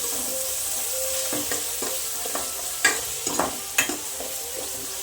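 Tomatoes with turmeric and curry leaves frying in a pan for tomato thokku, a steady close sizzle with a spoon stirring and scraping at irregular moments.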